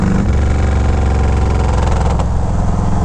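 A Yamaha Road Star 1700 Silverado V-twin motorcycle engine runs with a loud, steady, deep throbbing rumble. It sounds close up and continuous throughout, with no speech.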